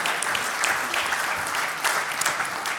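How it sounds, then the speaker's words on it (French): An audience applauds Jean-François Carenco, President of the CRE, with dense, steady clapping from many hands at a moderate level, continuing without break. "on peut applaudir Jean-François Carenco"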